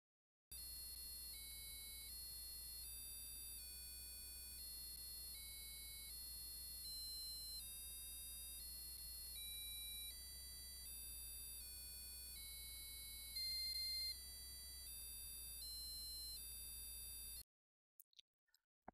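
An Arduino buzzer beeps out the Happy Birthday melody, steady tones changing pitch note by note, loud and alone, ending with a few faint clicks.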